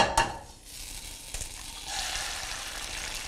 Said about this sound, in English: We're going to go ahead and crack our eggs.